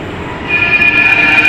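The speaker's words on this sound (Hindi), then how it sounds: "और एक और मेट्रो आ गई है," A metro train rolls into a station with a rising rumble and a sustained high-pitched wheel squeal, growing louder as it nears.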